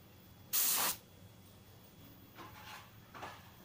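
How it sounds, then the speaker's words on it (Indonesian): An Auarita H 921 spray gun set to its smallest setting gives one loud, short hiss burst of about half a second, followed by two fainter, softer puffs later on, with no talking. "Kita coba ada medianya ini, kita semprotkan ke sini untuk yang setelan terkecil."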